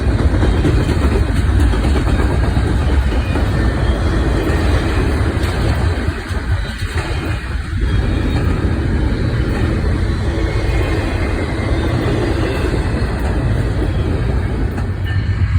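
A long freight train rolls past in Northern Indiana, heading from Chicago's yard toward New Jersey, with a loud continuous rumble and rattling railcars close by throughout.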